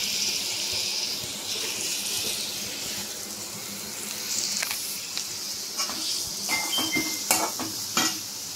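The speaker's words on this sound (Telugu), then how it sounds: "ఇది బాగా ఫ్రై చేశాక ఇప్పుడు నేను కట్ చేసుకున్న ఏదైతే పాలకూర, పచ్చిమిర్చి, కొత్తిమీర పేస్ట్ ఉందో దీన్ని వేస్తాను అన్నమాట." A paste of spinach, green chili and coriander sizzles and fries in oil, a steady close crackle with occasional stirring clinks of a utensil against the pan.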